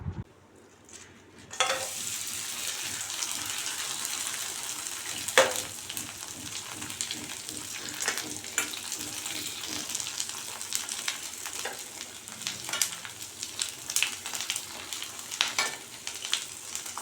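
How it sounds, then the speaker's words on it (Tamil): Rice vathal, a sun-dried rice and sago crisp, frying in hot oil, a steady close sizzle and crackle with occasional louder pops and stirring clatter, no talking. "வத்தலை நான் பொரித்து காட்டுறேன்"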